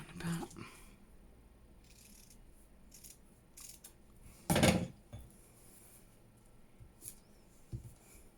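Scissors cut paper while junk journal tags and pockets are made. Quiet, close snips come in short bursts, with one louder, sharper cut in the middle and faint handling noises around it.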